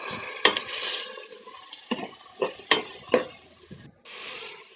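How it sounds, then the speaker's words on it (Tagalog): Continuous sizzle of garlic, tomato, onion and ginger frying in a hot pot, with several sharp scraping stirs and clanks of a utensil against the pot. "Gigisa na natin yung bawang, kamatis, sibuyas, bawang at luya yan"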